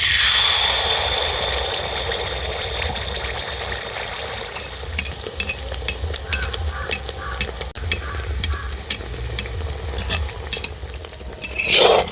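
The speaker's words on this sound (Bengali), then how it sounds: "এইভাবে করে প্রত্যেকটাই ভেজে নেব" Jaggery poa pitha fritters frying in hot oil in a pan, a steady bubbling sizzle that fades somewhat, then a run of metallic scrapes and taps from a spatula or ladle against the pan, with no talking.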